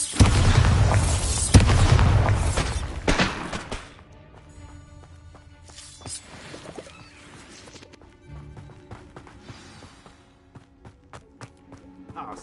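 A Bombarda blasting spell erupts in the Hogwarts Legacy video game with a loud, heavy boom and crashing debris for about three seconds, then fades to quieter scattered impacts and ambient game sound.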